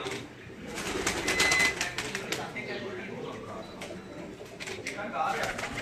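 Pigeons cooing on someone's Kasur rooftop: soft, throaty coos from nearby birds with light rustling, heard under someone talking throughout.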